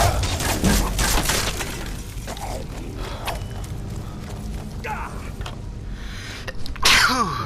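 A short, sharp sneeze bursts out amid busy Skyrim game background noise, followed by brief exchanges of speech.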